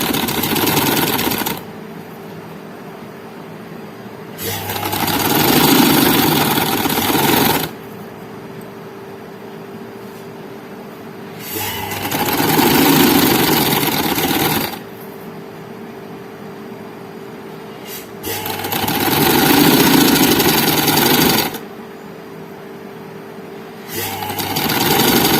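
A sewing machine stitches elastic onto a frock in three separate bursts of a few seconds each, with quieter pauses in between. The whirring is close and loud.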